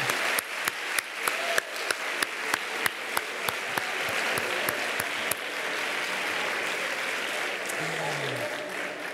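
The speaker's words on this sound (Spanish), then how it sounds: "Un aplauso para los que van a impartir justicia." An audience at an inaugural gala for a skills competition in Ceuta gives applause, starting with sharp separate claps that merge into sustained clapping, with a voice briefly heard near the end.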